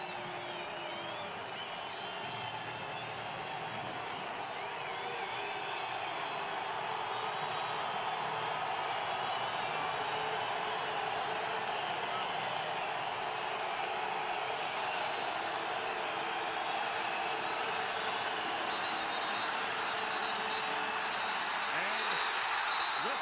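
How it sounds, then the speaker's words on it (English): A small but loud football stadium crowd at a CFL game in Winnipeg, Toronto Argonauts against the Blue Bombers, roars steadily throughout, a sustained wash of cheering with a commentator talking over it. "Not a big crowd, but they're loud."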